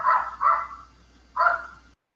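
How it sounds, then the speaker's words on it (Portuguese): A dog barks three times close to the microphone, two quick barks and then a third after a pause, coming through loud and clear during a live video stream. "Ô, Didi, seu cachorro tá latindo aí, cara."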